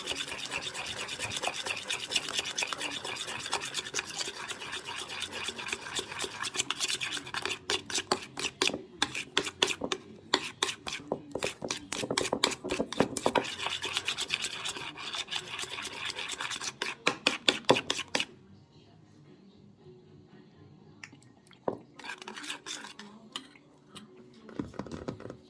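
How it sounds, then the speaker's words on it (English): A honey mustard mixture is stirred and scraped in a bowl, giving steady rasping strokes close up that stop for a few seconds and then return briefly near the end. "Let's stir that in there."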